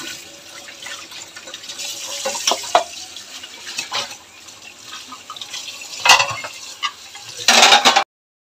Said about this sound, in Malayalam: അങ്ങനെ പാത്രങ്ങളെല്ലാം ഒന്ന് കഴുകിയെടുക്കട്ടെ എളുപ്പം